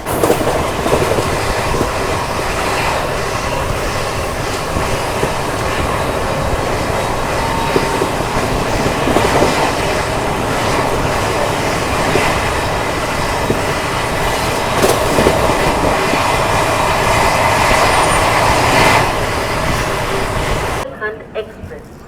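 A Rajdhani Express on the Hazrat Nizamuddin to CSMT Mumbai push-pull run rolls into Gwalior Junction with a steady, loud rumble and rattle of carriages that lasts about twenty seconds before cutting off abruptly.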